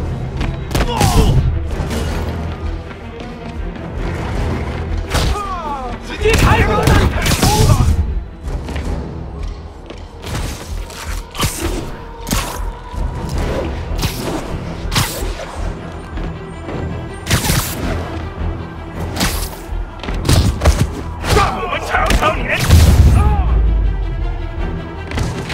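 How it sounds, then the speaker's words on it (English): Rockets firing and exploding during a fight with masked attackers in Marvel's Spider-Man Remastered, with repeated heavy booms and crashes over a dense, continuous mix of game action and music. "They got rockets!"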